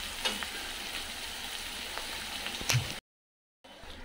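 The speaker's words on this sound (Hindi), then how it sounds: "प्याज को हम चलाएंगे और गोल्डन ब्राउन होने तक हम इसको भुनेंगे।" Onions are stirred and fried in a pan until golden brown, a continuous close sizzle with light scraping stir strokes, then a sudden brief silence before the frying resumes; no one speaks.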